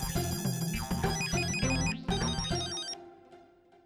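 An office telephone rings with a bright electronic ringtone, a repeating melodic pattern played loud and close for about three seconds before it cuts off, with no talking.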